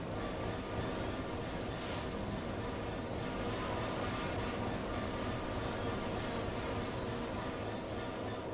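Train brakes squeal in a railway simulator game set on a Southeastern high-speed line, a steady metallic screech with faint whining tones repeating over a continuous rumble of wheels, with no voices.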